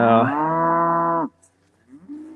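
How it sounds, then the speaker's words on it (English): A hungry cow in a pasture gives one loud, close moo lasting over a second, followed by a quiet pause and faint low sounds. "and they're hungry. That's why they're mooing."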